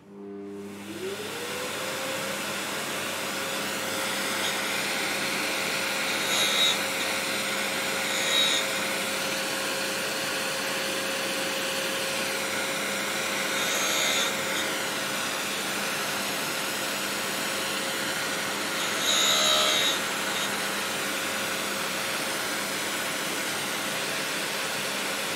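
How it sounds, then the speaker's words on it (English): A dust extraction unit runs steadily during tool grinding in a workshop, a constant whirring drone with a steady tone, joined by a few brief grinding swells. "Getting our dust extraction in would be nice."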